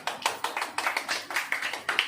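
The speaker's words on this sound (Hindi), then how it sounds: "ताली हो जाइए।" A congregation at a Hindi-language church sermon claps in a steady, fairly loud rhythm of sharp hand claps that carries on throughout without pause.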